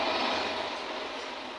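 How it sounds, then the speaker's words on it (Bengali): A train passes nearby with a steady, loud broad roar that fades only slightly over a second and a half, with no voices. "ওই ট্রেন যাচ্ছে"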